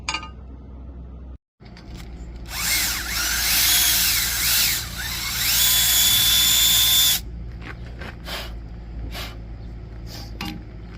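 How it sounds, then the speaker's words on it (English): A power drill bores a small indent for a set screw during a Ford F250/F350 clutch pedal repair, a loud steady whine running about four and a half seconds with a brief pitch dip, alone after a few faint clicks. "Now I can use a drill to drill a little bit of an indent there for that screw to really hold in properly"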